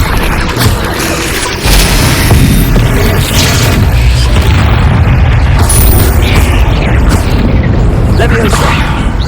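Incendio fire spell cast in Hogwarts Legacy, a loud sustained roaring burst of flame with booming low rumble throughout, dense and continuous, with voices mixed in.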